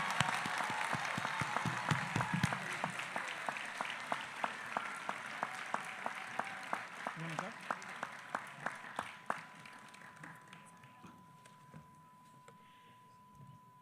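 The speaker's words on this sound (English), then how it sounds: "Another round of applause for Dr. Biden." Quiet applause from a community college commencement audience, scattered claps tapering off over several seconds into a fading murmur and near silence.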